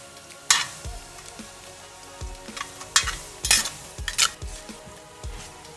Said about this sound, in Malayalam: ഇതെല്ലാം കൂടെ ഒരുമിച്ച് വറുത്ത് പോരണേ